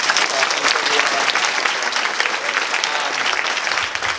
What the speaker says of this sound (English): if we could give one more round of applause